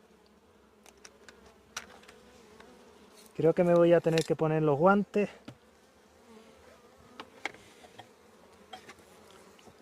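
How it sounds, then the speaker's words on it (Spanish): A steady, dense buzz of a swarm of bees at a hive close by, continuing throughout, with someone speaking briefly in the middle. "esto está a tope de abejas"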